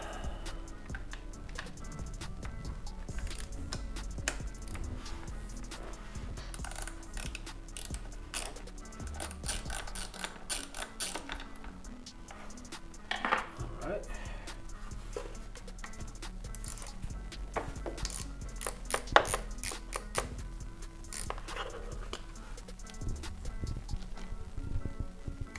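Hand tools at work removing the rear deflector on an Aprilia RS660 sport motorcycle: a continuous run of close ratchet clicks, light metallic taps and handling noises, steady and fairly quiet, with no talk.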